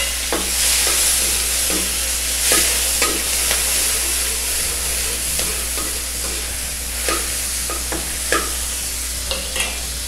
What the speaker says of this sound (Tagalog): pwede nating ilagay itong bawang, yung sibuyas at kamatis.